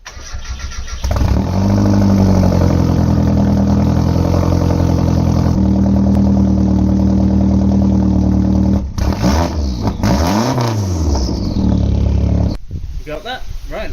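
A car engine without its exhaust mid box cranks, catches and settles into a loud, throaty roar, then revs up and down sharply toward the end, close and dominating.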